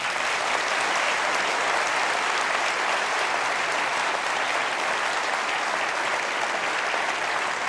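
Sustained applause from a theatre audience in Parramatta after a televised treasurers' debate, dense and steady at full strength for the whole stretch with no talk over it.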